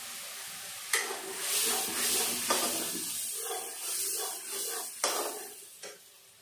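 Masala paste is stirred in a pan with a spatula in a series of sharp, close scraping strokes over a soft, low sizzle, fairly quiet overall.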